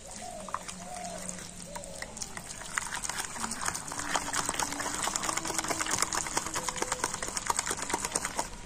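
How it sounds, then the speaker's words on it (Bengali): Semolina and yogurt batter being stirred with a spoon in a bowl after adding water: steady, quick scraping and sloshing strokes, close and moderately loud, with someone speaking briefly at the start. "তো জল দিয়ে আবার আমি ব্যাটারটা গুলে নেব।"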